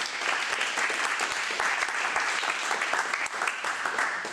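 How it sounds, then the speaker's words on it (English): Steady applause from a small crowd fills a CrossFit gym after a nutrition talk, dense clapping continuing at an even level throughout. "Round of applause for you guys."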